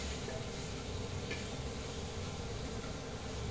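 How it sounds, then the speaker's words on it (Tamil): Masala mixture for cauliflower biryani stirred in a pot, a soft, steady scraping and faint sizzle that runs on without pause, quiet and alone. "இப்போ இதை நல்லாவே மிக்ஸ் பண்ணி விட்டுடலாம்"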